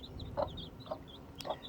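A hen clucks inside a chicken coop, three short, fairly faint clucks spaced about half a second apart over a low background hum.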